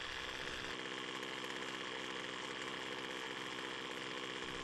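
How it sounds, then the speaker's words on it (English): A two-stroke string trimmer engine from a Poulan Pro or Craftsman type machine with a Zama carburetor runs at steady high speed during carburetor adjustment. Its buzzing drone is continuous and fairly faint, with no talk over it. "I'm listening to the engine speed"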